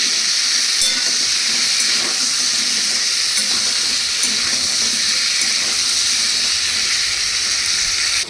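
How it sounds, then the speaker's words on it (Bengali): Sliced pointed gourd fries until deep red in a pan for a vegetarian dish, making a loud, unbroken, close-up sizzle with faint stirring scrapes throughout. "এবার একদম লাল লাল করে ভালো করে ভেজে নিয়ে"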